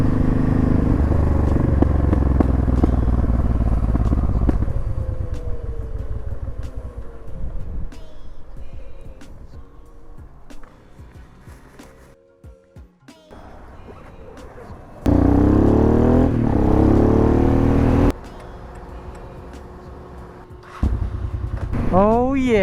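A Honda Transalp converted to a supermoto, ridden home on a cold evening: engine drone and wind roar rising and falling with gear changes and throttle, loud and close, with a rider's voice over it at times.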